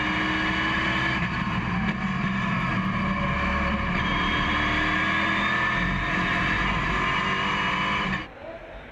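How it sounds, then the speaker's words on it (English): Onboard engine roar from a NASCAR Whelen Euro Series race car at Monza through Lesmo, a loud sustained drone with shifting pitch that cuts off abruptly near the end. "On board with Guillaume Rousseau in Lesmo behind Gandon"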